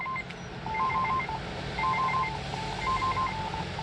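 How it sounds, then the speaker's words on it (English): Repeated bursts of short electronic tones in a patterned sequence, a couple of seconds apart, over a steady background hiss: an Icom IC-V86 handheld radio beeping for a weather alert. "I think I have a weather alert coming in. That's why it's beeping."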